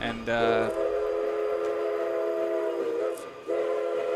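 A powerful train whizzes past close by at speed, its horn blaring in sustained, layered tones over a rushing rumble, with a brief dip before the horn resumes.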